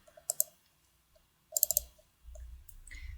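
Crisp, quiet mouse clicks sound in two short bursts on a save button in business software, close and isolated against near silence, followed by faint low background noise.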